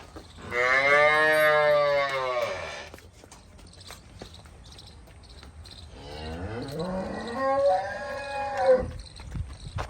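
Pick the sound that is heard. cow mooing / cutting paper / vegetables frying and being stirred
cow mooing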